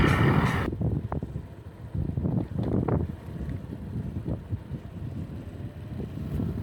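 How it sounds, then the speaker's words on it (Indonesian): A small boat's engine runs steadily as it cruises the river north of Pandansimo Bridge in Yogyakarta, a low continuous rumble partly buried under heavy buffeting wind noise on the microphone. "Suara mesinnya cukup halus."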